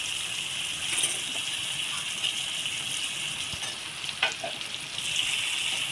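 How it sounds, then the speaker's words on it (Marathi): Cut potatoes fry in hot oil for a vegetable dish, giving a steady sizzle and crackle with faint stirring clinks throughout and no voices. "आता याचं व्यवस्थित तेलामध्ये फ्राय करून घ्यायचं"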